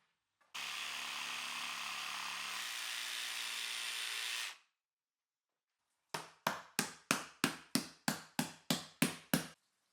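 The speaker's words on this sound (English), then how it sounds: "I'm just going to mark out the shape I want for the floor tile and cut it with the jigsaw" A jigsaw cutting a floor tile for garage flooring: a steady, loud buzzing cut lasting about four seconds, then a pause and a quick, regular series of sharp chopping strokes, with no voices.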